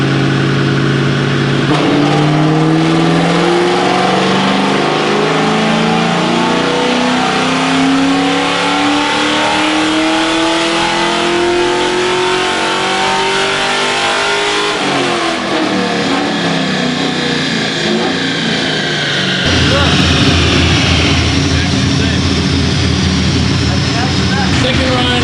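Full bolt-on Ford Mustang engine revs hard on a dyno, pulling up through the rpm range in a loud, rising roar, easing off, then winding up again, close and dominant throughout.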